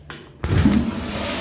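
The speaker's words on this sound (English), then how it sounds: "I'll show you the flush." A toilet flush in a public restroom at a Myer store in Chadstone starts abruptly as a loud rushing surge of water, then holds as a steady, close, broadband roar without talk.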